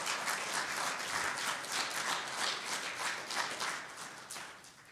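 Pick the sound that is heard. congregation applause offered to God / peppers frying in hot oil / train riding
congregation applause offered to God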